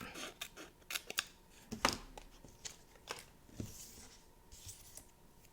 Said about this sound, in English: Cut straight on this side. And cut straight across the top.